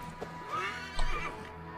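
A horse in the video game Assassin's Creed Valhalla whinnies with a rising, shrill neigh, close and fairly loud, followed by a softer snort; no talking.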